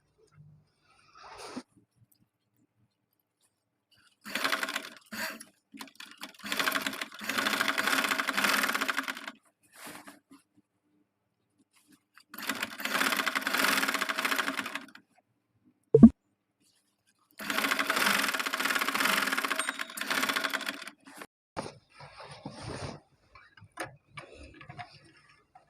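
Sewing machine stitching along a trouser hem edge in several bursts of steady whirring, separated by pauses and a single sharp knock, close by with no speech.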